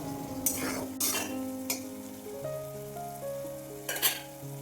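Onions and slit green chillies fried in oil for a spicy dried fish dish are stirred in a pan, giving a steady sizzle with several sharp scraping clinks of a spoon against the metal.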